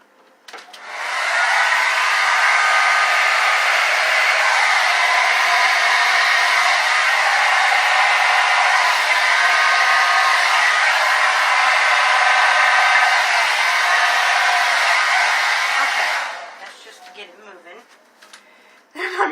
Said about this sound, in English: Blow dryer. Here we go.